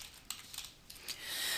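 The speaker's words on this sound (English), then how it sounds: "by typing that search term in the Geography box in the Quick Start section and clicking Go" A few quick taps on a computer keyboard as a search term is entered, sparse and faint clicks in a quiet room, followed by a soft rising hiss.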